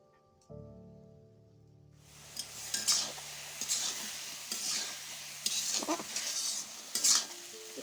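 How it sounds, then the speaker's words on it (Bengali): Potatoes, pointed gourd and radish sizzle in a pan after a nigella-seed tempering, with close, repeated scraping stirs and clinks over a steady crackling fry. A quiet start gives way to louder frying after a couple of seconds. "তরকারি আলু আর পটল মূলাটা একটু ভাজা ভাজা করে"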